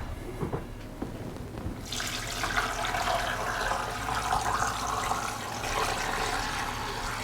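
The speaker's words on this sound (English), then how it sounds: "Now we can start filling this with water" Water pours steadily into a pot, starting abruptly after a few soft clunks and continuing as a loud, continuous rushing splash.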